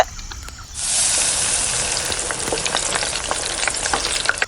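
Oil sizzling and frying loudly in a hot pan while cooking village-style chicken biryani, a sudden broad hiss that starts after a quiet moment and holds steady with crackling pops throughout.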